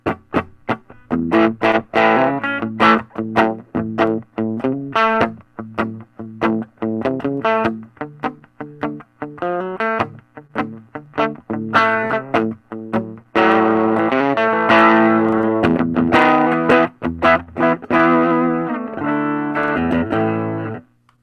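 A Telecaster or Stratocaster electric guitar played with gain distortion, chugging chords and picked notes ringing with a gritty, effected tone, loud and continuous, growing denser toward the end.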